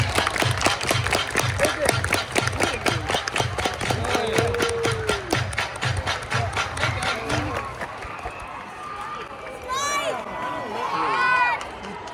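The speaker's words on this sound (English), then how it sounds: "Everybody clap your hands." A baseball crowd at a Joliet Slammers game claps in a steady rhythmic beat for several seconds, then fades as stadium chatter, voices and a few whistles take over.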